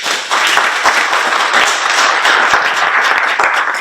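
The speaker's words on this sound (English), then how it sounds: "let us give them a round of applause for being here" Warm applause from an audience at a Women's History Month panel discussion at a public library, a dense, steady wash of many hands clapping close by, with a few sharper claps standing out.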